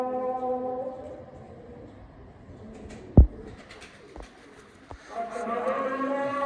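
Pet pigeons coo nearby in drawn-out, low, humming calls at the start and again at the end, with a single sharp thump and a few soft knocks in between.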